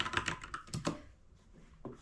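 Quiet, close-up keystrokes on a computer keyboard come in a quick run of taps, pause, then resume with a single tap near the end.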